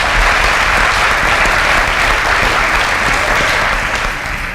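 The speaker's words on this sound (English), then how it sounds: "A round of applause." A large audience applauds loudly and continuously, a dense wash of many hands clapping that fades slightly toward the end.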